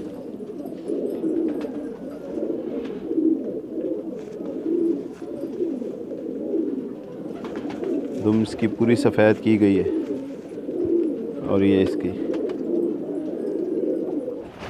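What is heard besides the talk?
pigeons cooing, Chuachindar Dande Mar breed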